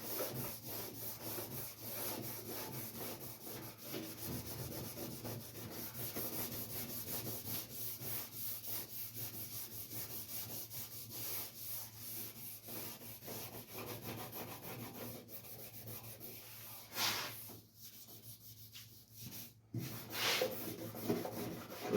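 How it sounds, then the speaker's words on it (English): Hand rubbing down a car panel produces a continuous rough, rasping scrubbing with rapid back-and-forth strokes, steady and close, briefly pausing near the end, with no talk. "Just rub like hell."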